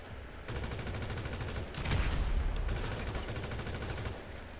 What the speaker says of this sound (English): let me use these new tracer bullets on you